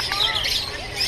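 Several caged birds chirp and squawk loudly and continuously in an aviary, a dense overlapping chorus of calls close by.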